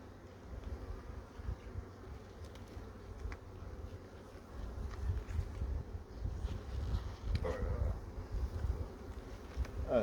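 Honeybees swarm around an opened beehive during a late-season inspection, their steady, soft buzz close to the microphone and rising slightly toward the end, with no talk.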